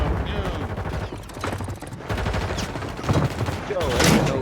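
Gunfire in an online squad shooter video game, rapid bursts of close shots and fusillades under excited voices talking over it.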